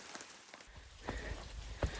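Steady rain patters and hisses on the forest surroundings of the Sutton Round Top hiking trail, up close and continuous, with a few heavier drops and rustles standing out.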